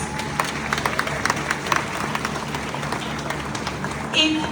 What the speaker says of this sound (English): Put your hands together and give yourself a round of applause.